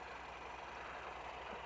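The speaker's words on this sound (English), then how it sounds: "I got the bike running" Honda NC700X motorcycle engine idling steadily, a continuous low rumble with a faint rhythmic pulse, heard alone and fairly quiet for under two seconds.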